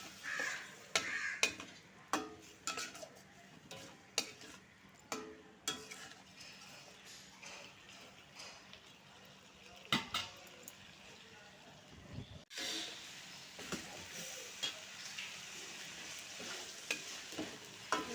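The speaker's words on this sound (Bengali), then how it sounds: "এবার চিনি দিয়ে দেবো, একটু ভালো করে কষিয়ে নেব।" Pointed gourd and soybean curry with added sugar is stir-fried in a pan. A soft sizzle runs under repeated scraping strokes of a spatula, and crows caw in the background.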